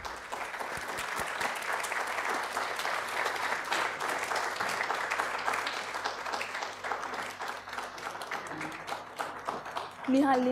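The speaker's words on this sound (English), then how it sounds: "Please continue the applause till they light the lamp." Sustained audience applause at the inauguration of a CSI ISMA conference as guests light a ceremonial lamp, dense continuous clapping from a crowd filling the room, with a voice speaking briefly at the end.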